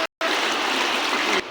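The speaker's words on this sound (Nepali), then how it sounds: "रमित खोला तर्दैछ" A rushing mountain stream is being waded across in a village setting: a steady, close wash of flowing water that starts abruptly after a brief gap and runs evenly before dropping off at the end.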